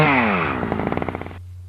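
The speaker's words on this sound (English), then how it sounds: "we are the one and only home of the Chewbacca chainsaws" A Chewbacca-style growl mixed with a revving chainsaw sounds loud and close, a roaring howl breaking into rapid sputtering pulses before cutting off abruptly.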